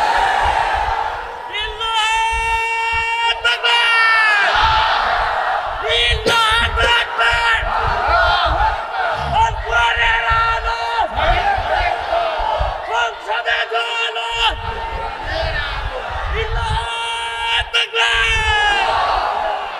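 A large crowd at an Islamic religious gathering (mahfil) chants the Allahu Akbar slogan in loud, rhythmic bursts, voices swelling together and repeating with brief pauses between rounds.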